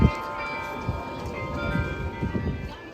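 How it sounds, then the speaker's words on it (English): Carillon bells in the Bruges belfry, Belgium, ring a short melody before the hour strike, with sustained bell tones layered and ringing on under scattered low background bustle. "the historical practice of playing a small melody before the hour strike"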